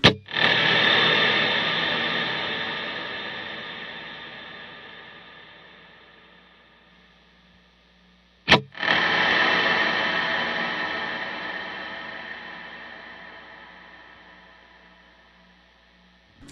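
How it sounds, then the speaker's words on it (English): A Strymon BigSky pedal on its cloud reverb setting, two struck guitar sounds each blooming into a thick, smeared wash that decays slowly over about eight seconds, the second repeating the first. "I'll just show you what the diffusion in a cloud reverb algorithm does."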